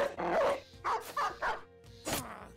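Dog barks and yips from the tactical video game Battle Brothers, a few sharp separate bursts close up, with short gaps and a whimpering tail near the end.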